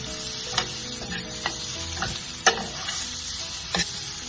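Egg roast masala with garam masala being stirred in a hot pan: a steady close sizzle punctuated by several sharp spoon knocks and scrapes against the metal, no voices.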